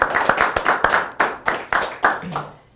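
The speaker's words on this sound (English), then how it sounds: "With me today, round of applause." A talk show audience claps in a brief round of applause, a few loud, distinct, rhythmic hand claps close by that gradually fade out after a couple of seconds.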